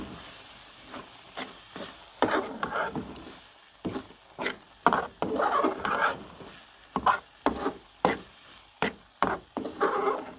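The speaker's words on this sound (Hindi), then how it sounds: "अब इसको अच्छे से भूनना है, मिक्स करना है।" Carrot halwa with crumbled barfi is stirred and roasted in a pan, giving repeated scraping and stirring strokes over a soft sizzle, fairly close and without talk.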